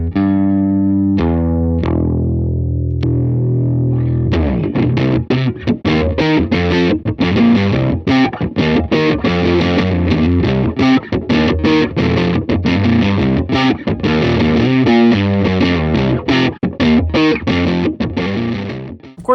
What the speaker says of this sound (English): Here it is on its own, just amplifying the normal amp sound.